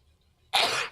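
A single loud sneeze bursts out close by after a near-silent moment in a radio studio, broad and explosive, then tails off.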